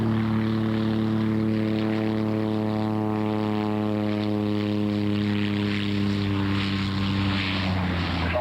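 A propeller aircraft landing with reverse thrust at an air show after a steep, short approach, its engine a loud steady droning hum with strong tonal harmonics that holds throughout and swells slightly toward the end.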